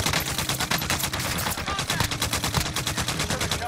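The RAAL MG machine gun in Warzone fires a sustained, rapid stream of loud, evenly spaced shots that fill the whole stretch without pause.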